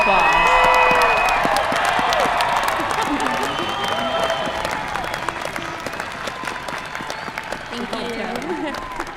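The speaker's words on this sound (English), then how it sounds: "Please give her a round of applause." Commencement crowd at Southwestern University applauds the last graduate of 2022 with loud clapping, cheers and whoops, voices shouting and talking through it as the applause slowly tapers.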